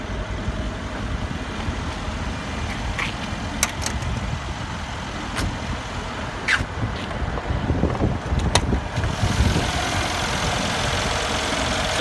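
Two Mercedes-Benz G63 AMG engines, one handcrafted, idle with the bonnet open, giving a steady low rumble with a few faint clicks and knocks on top.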